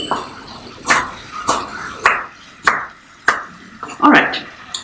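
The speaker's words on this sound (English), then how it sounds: "I'm going to go ahead and chop them up roughly." Knife roughly chopping Mexican mint leaves on a cutting board, about six distinct sharp chops at a steady, unhurried rhythm, close and fairly loud.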